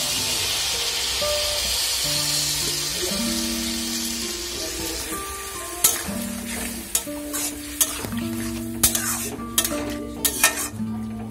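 Ridge gourd and pointed gourd frying together in a pan, a steady sizzle with repeated metal spatula scrapes and clanks against the pan, close and loud, with no voices.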